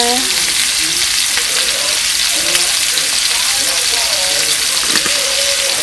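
Chicken breasts seasoned with season salt, black pepper and lemon pepper sizzle loudly in a pan, a dense, continuous hiss of frying with faint voice-like tones underneath.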